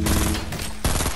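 Rapid bursts of video game gunfire crackle in dense volleys from a shootout between players, a short pause between two loud clusters of automatic shots.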